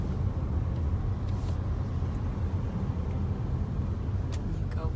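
Steady road rumble from a car driving along a road past a mall in Orlando, a constant low engine and tyre drone with a few faint higher clicks, close and without talking.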